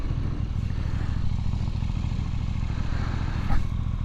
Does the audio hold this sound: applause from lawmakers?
no